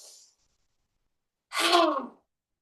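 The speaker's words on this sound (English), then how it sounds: "sticking your tongue out, crossing your eyes, and making a very expressive exhalation" A lion's breath exhale: one forceful, breathy outward rush with the tongue out. It is close and loud, lasts under a second, and follows a faint earlier breath.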